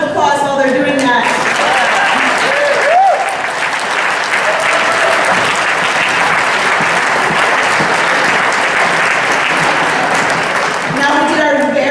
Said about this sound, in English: We can give them a big round of applause while they're doing that.